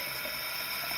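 Activated carbon fizzing steadily as water is poured over it and oxygen is released, a dense continuous hiss of tiny bubbles heard up close for about a second.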